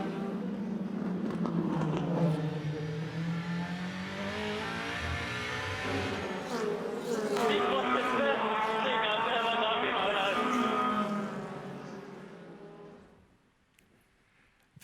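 A race car roars through an overtaking move at Sanford, its engine note rising and falling through the gears before fading out near the end. A voice is faintly present under the engine.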